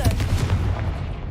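The Confringo fire blast spell in the video game Hogwarts Legacy, a single loud explosive boom with a crackling burst that rumbles and decays over about a second.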